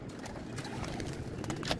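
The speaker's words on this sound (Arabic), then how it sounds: "طبعا كل ده حمام ديكور" Pigeons coo at a rooftop pigeon tower in Damietta, a steady low murmur of calls with flapping and faint scuffling, fairly close and continuous throughout.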